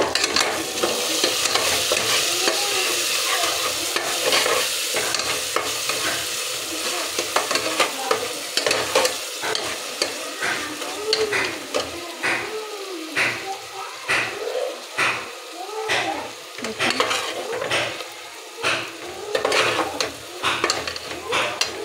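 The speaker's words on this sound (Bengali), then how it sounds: "হালকা করে একটু ভাজবো" Tomato and onion fry in a pan with a constant sizzle, while a spoon stirs and scrapes in a steady, repeating rhythm close by. No one speaks.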